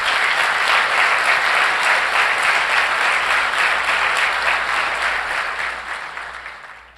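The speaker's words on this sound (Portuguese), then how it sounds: "Dá um aplauso aí a Jesus." A church congregation breaks into loud, sustained applause that fills the room for several seconds before tapering off toward the end.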